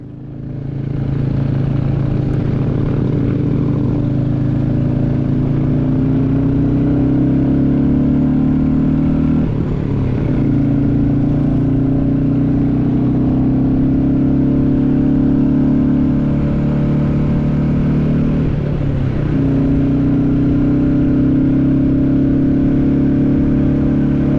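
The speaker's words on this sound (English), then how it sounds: "Sounds like a classic style motorbike should sound like." A Royal Enfield motorcycle with a new exhaust thrums loud and steady while riding a snowy mountain road, a deep throbbing exhaust note with a couple of brief dips where the revs shift.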